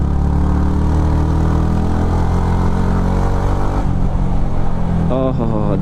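A Yamaha MT15 motorcycle runs close beside a wall, its loud, continuous engine drone shifting pitch as it passes, and a rising, wavering whine comes in near the end.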